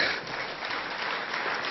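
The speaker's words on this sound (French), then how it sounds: "Oh, on peut les applaudir, allez-y." Steady, dense applause from a large audience at the FNSEA farmers' union congress in Biarritz, 2014, filling the whole moment without a break and with no voices on top.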